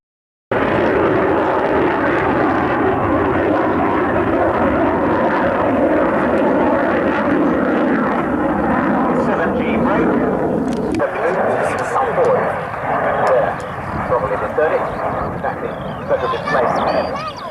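A variable-geometry swing-wing jet, fully swept, roars loudly and continuously through a flypast at the RAF Coningsby airshow in 1992, with a commentator talking over the engine noise throughout.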